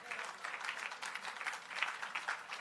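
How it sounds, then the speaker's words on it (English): An audience at a truck handover ceremony applauds staff and drivers, steady moderate clapping from a room of people that carries on throughout, somewhat distant. "give them a round of applause"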